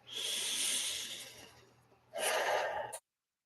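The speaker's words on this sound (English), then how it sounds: "We're going to take a deep breath." A slow, deep breath drawn in and let out during a guided stress-relief tapping session, a long airy inhale followed by a short pause and a stronger exhale, close and clear with no talking.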